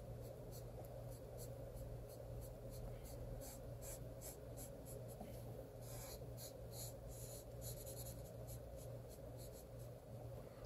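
Gel pens or coloring tools scratching steadily across a coloring book page in quick, rhythmic strokes, close and fairly quiet over a steady low hum.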